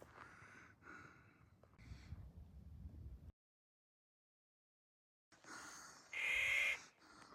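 Harsh, loud bird calls in repeated bursts, close by in the Sierra Nevada, then a pause and another raucous burst with a shrill squawk.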